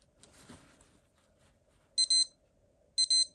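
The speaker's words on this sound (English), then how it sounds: "It's got 5 alarms, 5 signal alarms." A 1985 Casio DB-510 digital watch alarm gives two short double-beep bursts a second apart, sharp and high, after a faint handling sound.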